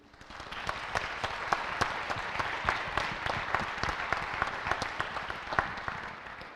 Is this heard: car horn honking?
no